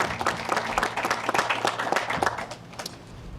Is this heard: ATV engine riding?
no